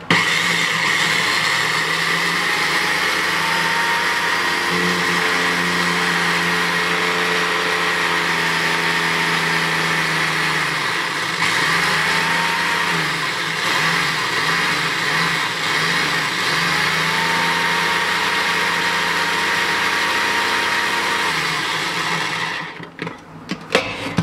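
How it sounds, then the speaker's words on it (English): An electric blender whirs continuously as it mixes a honey and egg yolk hair mask. The motor hum is steady and loud, dips and wavers midway, then cuts off abruptly near the end. No one speaks. "the reason why I put this in a blender"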